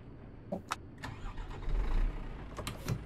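A truck engine in Euro Truck Simulator 2 cranks and starts, with a few clicks first and then a low rumble that swells and settles, fairly quiet and heard alone.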